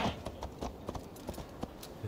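A horse's hooves clip-clop in steady rhythm in Assassin's Creed Valhalla, a quick series of crisp, evenly spaced hoof beats close by with no talk over them.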